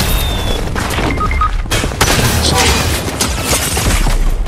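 Gunfire in the video game Fortnite as the player is shot at from several directions: dense, loud volleys of cracking shots with booming impacts, nearly continuous through the clip.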